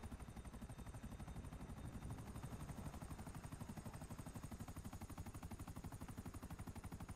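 Helicopter rotors chopping in a steady rapid rhythm in the video game GTA V, very faint overall, with a continuous pulsing beat and possible gunfire blended in.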